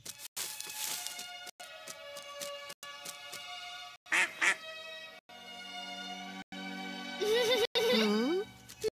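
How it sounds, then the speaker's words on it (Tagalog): A duck quacks a few times amid a cartoon soundtrack with music and short sound effects, nearby and fairly clear. "Isang maliit na pato lang pala."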